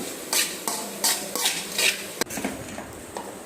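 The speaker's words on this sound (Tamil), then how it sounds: "இப்போ நல்ல கீரையை வந்து நல்லா வதக்கி விட்டுக்குவோம்" Drumstick leaves being stirred and sautéed in a pan, with repeated metal utensil scrapes and clinks against the cookware in a steady rhythm, close and clear, with no talking.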